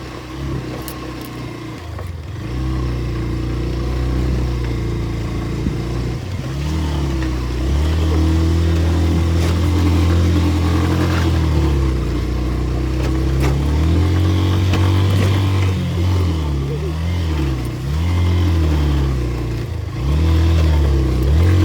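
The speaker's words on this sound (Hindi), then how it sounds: "सिर्फ बाइक की आवाज़ पे ध्यान देना।" A motorcycle engine labours steadily on a rough mountain off-road route between Manali and Kaza in Spiti Valley, droning loud and close throughout with repeated dips and rises in revs as it strains over the terrain.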